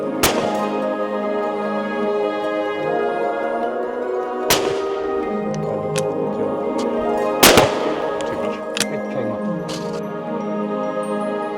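Sharp shotgun blasts ring out at a clay shooting ground in Sweden, three loud close reports spaced several seconds apart over a sustained tonal background.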